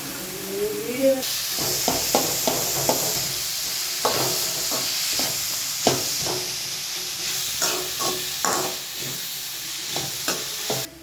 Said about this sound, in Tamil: இப்போ கேபேஜ் போட்டுக்கலாம்.